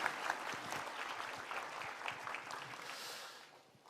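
Audience applause at a book-club speech contest event in Korea, a steady burst of clapping from a crowd that holds for most of the clip and then tapers off toward the end.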